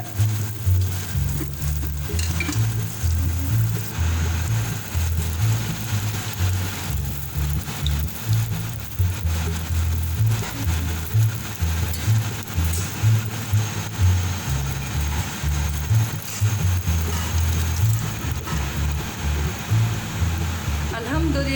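Food frying on a high flame in a home kitchen, a continuous sizzling and crackling bed with some stirring, while someone talks over it.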